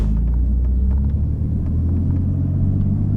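Porsche Carrera S pulling forward slowly through snow, a loud low engine rumble that holds steady and close for the whole stretch.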